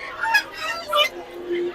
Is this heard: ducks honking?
yes